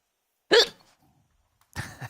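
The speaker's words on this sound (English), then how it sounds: "I got hiccups." A person hiccups twice, about a second apart, each hiccup sharp and close in an otherwise quiet moment.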